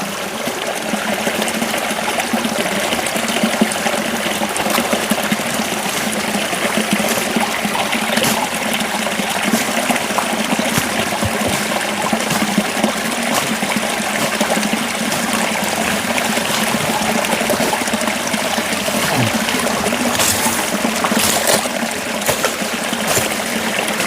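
Spring water runs steadily from a clean communal source, a continuous close stream and trickle with a bright splashing hiss, unbroken and with no voices over it.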